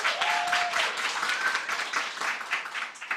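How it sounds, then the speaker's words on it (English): Applause at a BCom graduation ceremony as a graduate receives a cum laude qualification. Dense clapping stays strong, swells and dips slightly, and a couple of brief whistle-like tones rise over it. "I want you to give Heidi an extra round of applause as she's receiving her qualification cum laude."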